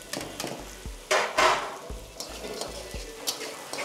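Onion with cinnamon, clove, ginger and garlic frying in oil makes a soft sizzle broken by several sharp scraping and stirring bursts and a few low knocks of the utensil against the pan.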